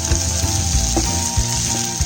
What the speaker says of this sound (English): Then add your chopped mushrooms and let them cook till they turn golden brown.